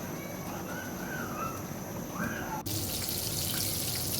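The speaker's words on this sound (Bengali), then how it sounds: "এভাবে তেলে ভেজে নিতে হবে।" Coated chicken pieces frying in hot oil over a medium flame give a continuous, fizzing sizzle that grows brighter and louder partway through.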